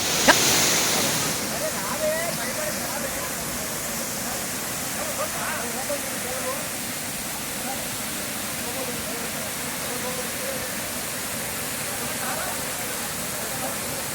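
Water rushes at Hogenakkal falls in a dense, constant roar that fills the whole stretch without pause, loud and close.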